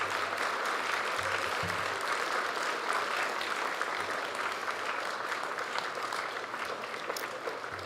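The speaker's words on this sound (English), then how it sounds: "would you please stand so we can give you a round of applause for your support?" At the 2025 Craft Academy graduation ceremony, a standing crowd in a large hall gives a sustained round of applause, an even wash of many hands clapping heard from a distance and holding steady throughout.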